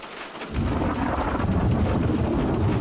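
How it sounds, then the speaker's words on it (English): Heavy rain during a thunderstorm, with a deep rumble of thunder building suddenly and rolling on steadily, loud and close, with no talk. "That is thunder!"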